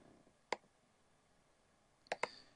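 A computer mouse clicks during photo editing in Lightroom: one sharp click, a pause, then two quick clicks close together near the end, crisp and close against a quiet background.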